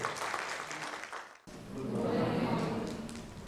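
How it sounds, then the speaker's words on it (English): Audience applause for a speaker being welcomed at a corporate learning and inclusion talk, a burst of clapping that dips briefly then swells again, filling the room steadily. "Can we have a huge round of applause for Mr. Rupak Rathod?"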